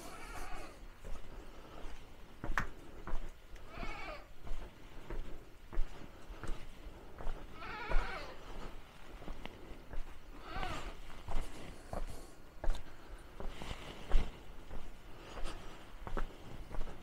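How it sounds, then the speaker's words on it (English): A goat on the Levada dos Tornos hiking trail from Monte on Madeira bleats repeatedly in short wavering calls, moderately close over outdoor ambience and rustling. "Little friendly neighborhood goat."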